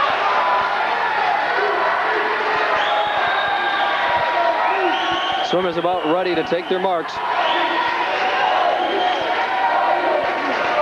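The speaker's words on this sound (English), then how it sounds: "Get the final crowd cheer" A large crowd roars and cheers continuously at the 1995 Big Ten Swimming Championships, with an announcer's voice talking over the din and a brief burst of whistles and calls partway through.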